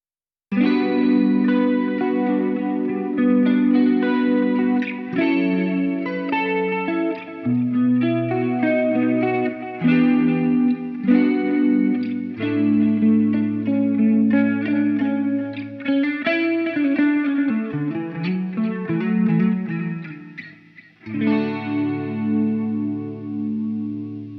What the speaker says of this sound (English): Here's another sound example using the Boss CE2W Wazacraft chorus pedal and the Source Audio Collider delay and reverb pedal.